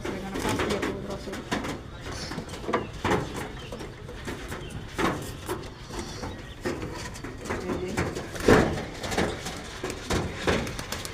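Several pigeons coo softly and repeatedly at close range, with rustling and shuffling beneath the calls and some intermittent talk.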